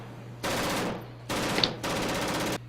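.22 caliber gunfire from a weapons sound library: three sustained bursts of rapid automatic-sounding fire, each lasting about half a second to under a second, separated by short gaps over a steady low hum.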